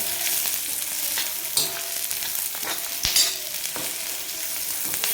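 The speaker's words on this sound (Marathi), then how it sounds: "सोबतच आपल्याला चार पाच काजू टाकायचे आहेत ते पण आपल्याला याच्यामध्ये भाजून घ्यायचे" Cashews and onion roasting in a pan for a dhaba-style paneer tikka masala, giving a continuous close sizzle broken by sharp scrapes and clinks of stirring, with no talk.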